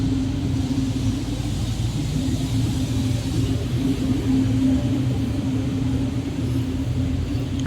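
Street sweeping truck cleaning a road late at night, a steady low engine rumble with a constant drone running throughout, close and even with no voices.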